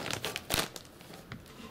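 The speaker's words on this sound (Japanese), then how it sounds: "袋の上のところを折りましょう。" The top of a plastic bag of garden soil for growing cherry tomatoes is folded over by hand, giving several close, crisp crinkles with one louder rustle partway through, with no voices.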